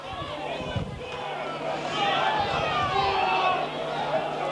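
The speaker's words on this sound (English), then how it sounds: "That's why the crowd are shouting." A crowd at a Barrow versus Hunslet rugby league match shouts and roars, a broad, swelling wash of voices that builds louder midway and stays sustained, with a commentator talking over it.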